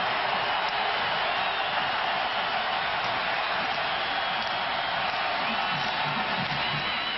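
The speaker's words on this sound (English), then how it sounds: "The crowd back on their feet." A football stadium crowd at a college game roars continuously in a dense, loud wash of cheering that never lets up.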